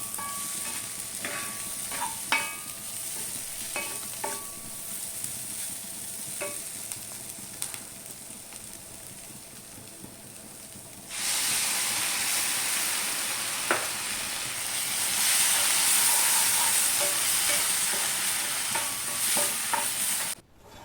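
Okra masala frying in a pan, a steady sizzle with intermittent scraping and tapping of a spatula, the frying swelling louder midway and again near the end; no talking.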